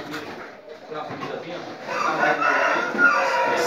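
A Moura breed rooster crows at a breeding farm, the crow mixed with clucking fowl and talk nearby.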